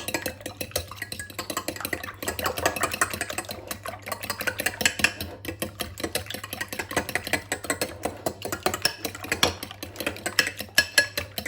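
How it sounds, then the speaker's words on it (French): A spoon stirs a potato, chicken and olive gratin mixture with eggs in a bowl, giving repeated close scraping and clinking at an uneven rhythm over a faint steady hum, with no talk. "Alors, on mélange."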